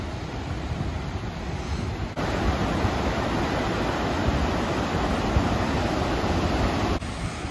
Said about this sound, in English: Got a little mini waterfall right here.